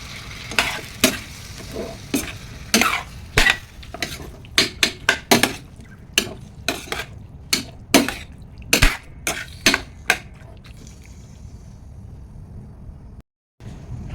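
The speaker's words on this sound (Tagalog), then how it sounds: "habang nagigisa tayo ng ating ulam" Chicken wings for afritada sautéing in a pan, with repeated sharp scrapes and clinks of a utensil stirring against the metal over a low sizzle, close and fairly loud, no talk.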